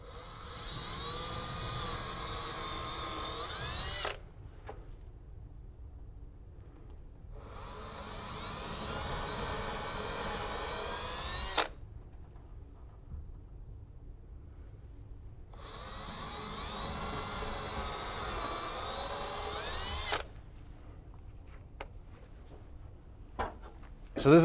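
A power drill whirs in several sustained bursts separated by pauses, driving screws while installing a commercial door closer, near and steady, with a voice speaking faintly in between.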